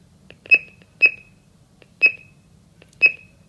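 A GS-G90 home burglar alarm host beeps during its arming delay, four sharp, evenly spaced beeps about a second apart over a faint low hum.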